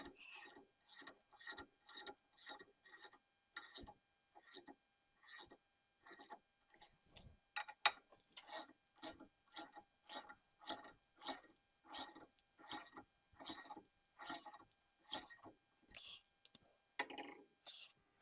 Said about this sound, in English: we're going to run them in with the ratchet by hand first